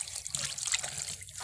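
Water trickles and splashes from a tap in a steady thin stream close by, bright and continuous.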